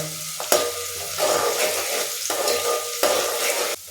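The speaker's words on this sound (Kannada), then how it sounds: "ಸ್ವಲ್ಪ ಬಾಡಿಸ್ಕೋಬೇಕಿದೆ ಈರುಳ್ಳಿನ" Chopped onion frying in hot oil in a pan for bitter gourd palya, a steady close sizzle broken by several bursts of scraping as a spoon stirs it, with no voices.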